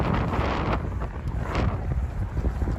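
Wind buffets the microphone in rumbling, uneven gusts, loud and close, with no speech, on a late-autumn street on Vasilyevsky Island, St Petersburg.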